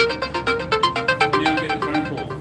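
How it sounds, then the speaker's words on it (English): A phone ringtone plays for an incoming call, a bright repeating melodic pattern of short tones pulsing about five times a second, steady and fairly loud with no talk over it. "now I'm getting a phone call."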